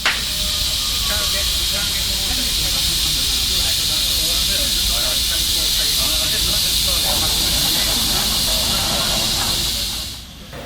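A live steam model locomotive of Martin Evans Springbok design hisses loudly and steadily at a model engineering exhibition in Northampton, the constant steam roar running for about ten seconds before trailing off at the end.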